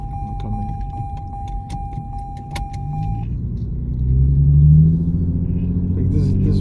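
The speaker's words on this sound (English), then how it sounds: "It gets some pops here and there." A Lexus IS fitted with an aftermarket axle-back exhaust rumbles loudly from inside the car, the low drone swelling as it revs partway through, with light rattles and clicks over the top.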